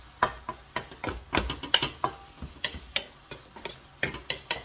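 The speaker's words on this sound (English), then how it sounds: "Patayin natin yung stove" Mostly a steady run of rhythmic clicking and ticking, evenly spaced like a stove's igniter or knob clicking, fairly close and clear with no talk over it.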